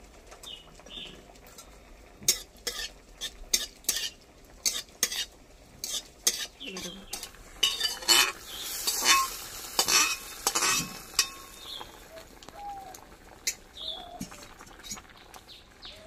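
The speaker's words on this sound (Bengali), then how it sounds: "এখানে একটু কাজু বাদামগুলো ভেজে নেব।" A spoon stirs and clatters in a pan of cashews frying in ghee, with sharp repeated clicks and a soft sizzle rising midway, close and busy, no voices.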